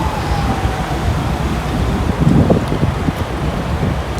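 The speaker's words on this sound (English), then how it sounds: "It's windy as hell out here." Loud, constant wind buffeting the microphone, a rough roar with gusts and no one speaking.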